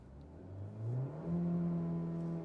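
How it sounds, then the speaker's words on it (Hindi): A parked 2026 Kia Seltos engine revs up smoothly from idle, climbing in pitch to the rev limiter and holding there with a steady, moderately loud whine, no talking. "खड़ी गाड़ी में 5000 RPM पे ये अपनी राइड लिमिट कर लेता है"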